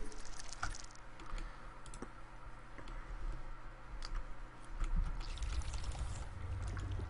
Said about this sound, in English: And hit the wrong keys while I do it.